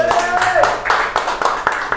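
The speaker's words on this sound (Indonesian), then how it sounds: "Tepuk tangan semuanya." A group audience at an Indonesian talk session claps in brisk, rhythmic bursts, several sharp claps close by, mixed with voices and a tonal hum underneath.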